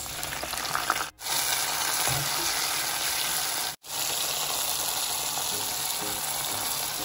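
Onion and fresh blended chilies frying in a hot pot, a steady loud sizzle that runs throughout and twice briefly drops out.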